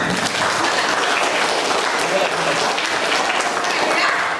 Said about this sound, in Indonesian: Tepuk tangan dulu untuk ibu gurunya